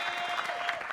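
Studio audience applauding on an Indonesian RCTI television variety show, a steady dense patter of many hands, fairly loud and continuous over the whole second with no talk.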